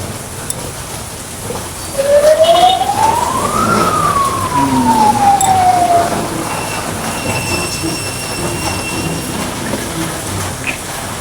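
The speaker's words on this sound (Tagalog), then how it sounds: "Ayun na po, napakalakas ang ulan." Steady broadband hiss of heavy rain throughout, with a siren-like tone rising then falling in the distance for a few seconds.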